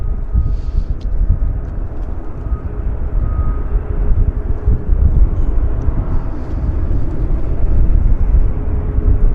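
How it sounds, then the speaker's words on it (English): A Q400 turboprop airliner lands on a far runway, a steady low rumbling drone that swells gently and carries from a distance across the airfield. "We've got a Q400 landing on the other side, guys"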